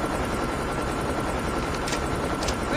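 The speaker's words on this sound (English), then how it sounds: "Stealth chopper inbound." Stealth helicopter in a military shooter video game, a steady dense rotor-and-engine roar filling the whole stretch at constant loudness with faint gunfire-like bursts mixed in.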